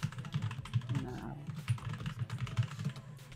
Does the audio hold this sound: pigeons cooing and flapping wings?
no